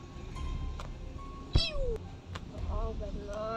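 A cat meowing in the video game Build to Survive, with a few short high mews over a game background and a louder sharp sound partway through, while a voice talks and imitates the meows.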